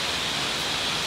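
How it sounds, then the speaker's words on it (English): Water rushes steadily at the Chichester Dam, a dense, even hiss of flow that holds unchanged through a short moment with no other sounds. "It's probably water."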